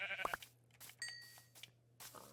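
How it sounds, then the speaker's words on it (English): Sheep bleating in the Minecraft video game, a few short bleats heard alone over a low steady hum, with some light game sound effects. "I'm going to kill this sheep just for some supplemental wool."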